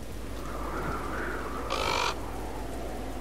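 A crow gives a single harsh caw in the video game Soulstice, a short burst standing out over a steady ambient drone of low background noise, with no voices.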